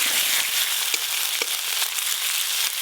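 Ginger garlic paste frying in oil with browned chopped onions and green chillies, a loud, continuous close sizzle broken by a few light clicks of stirring, no speech.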